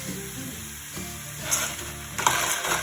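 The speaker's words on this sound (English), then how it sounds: "So just get those in the pan and mix that all up" Lentils stirred and scraped in a frying pan, a steady soft sizzle under intermittent scraping strokes, with a couple of louder clattering stirs near the end; close and moderately quiet, no talking.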